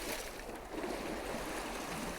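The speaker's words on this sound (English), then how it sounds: "I love listening to the sea." Sea waves lap on a beach along the Rossall sea wall, a continuous close wash of surf and trickling water with no talk.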